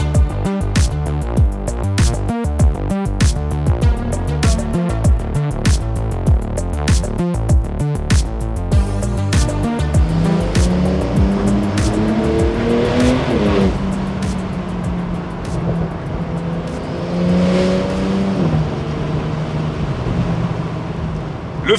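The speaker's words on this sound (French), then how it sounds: "on est là pour profiter justement de la déflagration de cette 911" A Porsche 992 911 Turbo S cabriolet engine accelerates hard through gears, loud and close, with a sustained rising roar and rapid pulsing before settling into a steady high drone.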